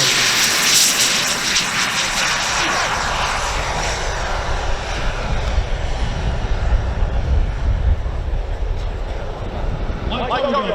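A radio-controlled model airplane engine drones loudly during a noon flying demonstration at the Joe Nall RC fly-in, passing steadily overhead with a shifting whine.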